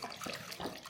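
Wet splashing and sloshing as sourdough starter is mixed with a fork, loud and close, with irregular bursts of liquid slapping against the bowl.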